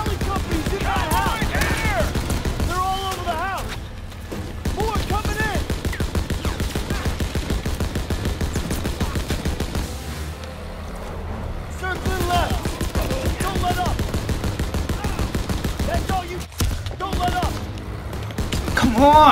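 Bursts of gunfire in the Call of Duty WWII battle mission Operation Cobra, with rapid machine-gun fusillades and single shots heard close over game music and shouted voices throughout, with only brief lulls.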